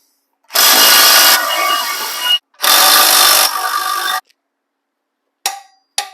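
Power tool snugging coilover bolts on a GM Squarebody truck during a back-half rebuild, two long sustained bursts a few seconds each, loud and close, followed by two short blips.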